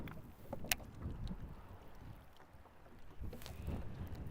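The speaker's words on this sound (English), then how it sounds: "it's so freaking windy and you're in an aluminum boat" Gusty wind buffets and rumbles against the microphone on the Stones River, rising and falling, with occasional light knocks and slaps from a small aluminum boat on the water.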